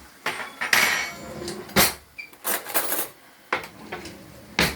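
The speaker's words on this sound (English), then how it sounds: "beat the egg very much" An egg is beaten hard in a bowl for egg fried rice, giving close, irregular clinks and scraping taps in short bursts with brief pauses between them.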